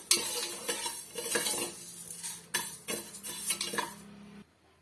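Dry lentils being roasted in a pan and stirred with a metal spoon, giving a steady scraping, rattling sound in bursts that stops near the end, with no talking.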